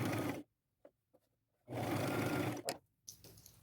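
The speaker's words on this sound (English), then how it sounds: "And I think I'll use a zigzag stitch." A sewing machine running a zigzag stitch on a ruffled boho duster: two loud close bursts of rapid whirring, separated by quiet pauses with faint clicks, then a softer hum at the end.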